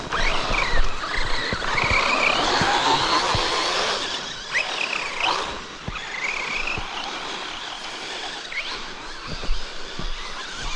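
Team Associated Rival MT10 RC monster truck sliding and skidding across a backyard dirt track, its electric motor whining and tires scrabbling in repeated bursts, close and fairly loud with chirpy squeals over steady rumble.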